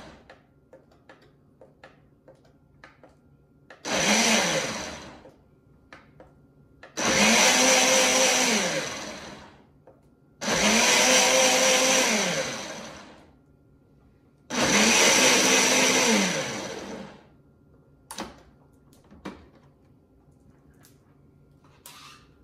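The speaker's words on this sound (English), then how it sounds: "you put your blender on" A countertop blender mixing powder with water runs in four loud bursts of roughly two to three seconds each, separated by short pauses, with faint clicks and handling noise between runs.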